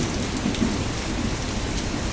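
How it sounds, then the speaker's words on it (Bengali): A heavy rainstorm with wind: a dense, steady roar of pouring rain fills the whole stretch evenly and loudly, with no voices. "কি সুন্দর ঝড় বৃষ্টি হচ্ছে, হাওয়া দিচ্ছে, বিদ্যুৎ চমকাচ্ছে"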